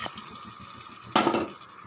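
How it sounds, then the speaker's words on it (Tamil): Water pours from a tumbler into a cooking pot for potato biryani, a soft low trickle followed by a louder, brighter splash near the end, close and alone. "4 டம்ளர் தண்ணி சேர்த்துடலாம்."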